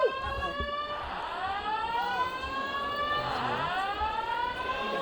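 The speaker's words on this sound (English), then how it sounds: "the fire alarms went off" Fire alarm going off in the Hyperion theater, a loud wailing siren-like tone sweeping up and down in repeated cycles, continuous and unbroken.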